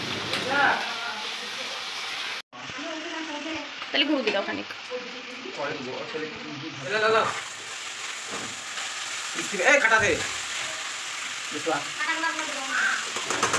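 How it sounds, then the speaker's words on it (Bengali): Onions and capsicum frying for chili chicken, a steady loud sizzle running throughout beneath frequent talking voices, with a brief cut partway through. "চিলি চিকেনের জন্য পেঁয়াজগুলিকে ফ্রাই করা হচ্ছে"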